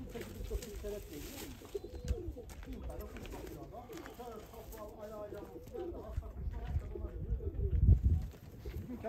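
Tumbler pigeons flown in Küçükköy, Ayvalık, with bird calls and soft cooing rising from a busy, noisy outdoor background, partly mixed with voices.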